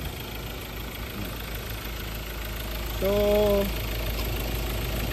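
A turbo diesel SUV engine idles with a steady, close rumble, and a brief tonal whine rises over it near the middle; someone says a single word.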